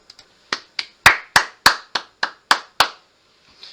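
A person claps their hands about ten times in a steady, evenly spaced run of sharp, close claps, preceded by two faint taps and followed by a soft trailing tap, with no talking.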